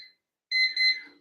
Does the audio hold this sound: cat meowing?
no